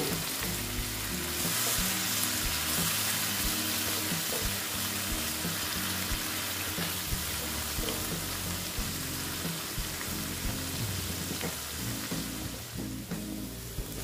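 Poppy seed masala fries in a pan for an egg posto dish, a steady close sizzle with scraping stirs and light clinks throughout, no talking.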